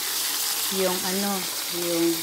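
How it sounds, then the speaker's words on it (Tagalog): Tilapia fries in a pan with a little ginger tucked inside, a steady sizzle running throughout while a voice talks over it. "nagpiprito ako ng tilapia"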